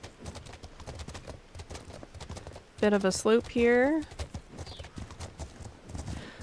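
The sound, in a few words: horse hooves clip-clopping in video game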